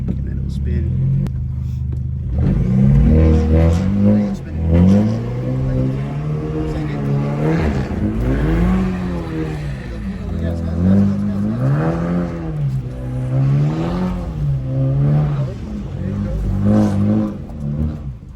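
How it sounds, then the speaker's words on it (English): A BMW F30 with M340i running gear does a burnout in the rain, its engine revving up and down again and again in long, loud surges while people talk inside the car. "You started from a burnout in the rain?"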